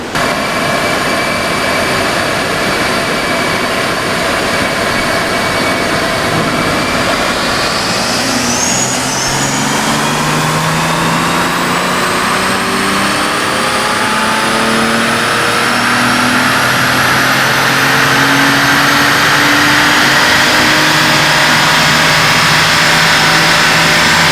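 A BMW M240i running a stage 1 tuned pull on a dyno, its engine roaring loud and close in one continuous rising sweep as the revs climb steadily over about twenty seconds.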